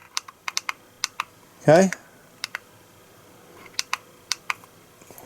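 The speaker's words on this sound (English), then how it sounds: "I can zoom in and out using these buttons." Sharp, separate clicks from the zoom buttons on a Limink endoscope come in short irregular bursts, with one brief spoken word partway through.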